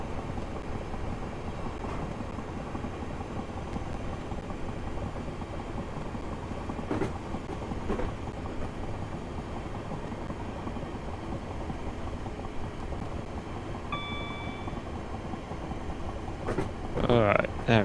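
A passing train in a train simulator game rumbles steadily with a rhythmic rattling and a brief tonal AWS beep, while a voice talks briefly near the end.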